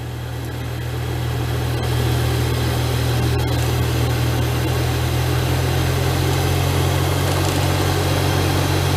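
A Toyota car's ventilation fan vibrates with a steady low droning hum and buzzing rattle, continuous and loud throughout, with no one speaking.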